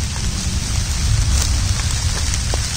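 Heavy rain pours steadily on an Odisha farm, a loud, even hiss of drops with no pauses and no voices.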